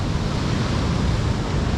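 Big waves crash against coastal rocks at Apollo Bay during rock fishing, a loud, continuous roar of surf and churning water that fills the whole stretch with no pauses and no voices.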